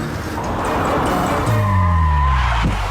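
Car braking to a stop in an action movie scene, a loud engine rumble with squealing tires as it slows, heard close and without talk.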